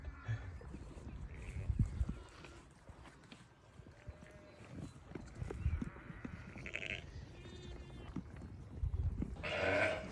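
Sheep and lambs bleat in an open field, several calls near and far scattered over steady outdoor noise, with some rustling and soft thuds between them.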